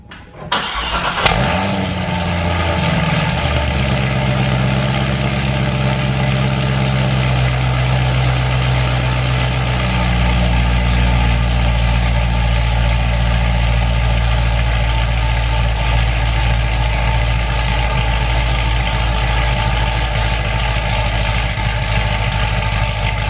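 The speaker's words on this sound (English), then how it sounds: "let's go ahead and hit the key and let's see how this thing sounds" Corvette C6 ZR1 with a titanium exhaust cranks and fires up, a brief revving start, then settles into a steady, loud, rumbling idle that runs alone for over twenty seconds.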